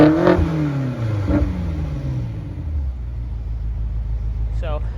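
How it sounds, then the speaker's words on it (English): The S63 V8 exhaust of a 2019 BMW X6M is revved twice in quick, sweeping blips close by, then settles to a deep idle rumble, with a brief voice near the end. "I'm sure you want to actually hear what it sounds like"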